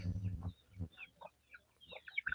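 Backyard chickens, a flock of around forty birds, cluck softly and intermittently close by, short scattered calls with brief pauses between them and no talking.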